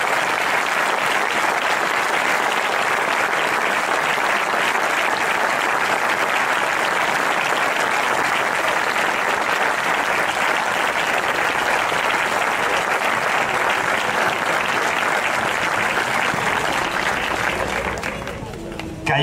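Audience at a football club's season team presentation in Segorbe breaks into sustained, dense applause, steady and loud throughout before tapering at the very end.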